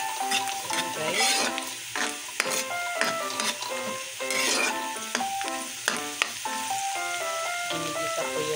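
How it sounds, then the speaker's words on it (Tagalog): Onions sautéing in a pan for ampalaya with eggs, with a steady close sizzle and intermittent stirring clinks, while music plays loudly in the background. "Ginigisa ko yung sibuyas"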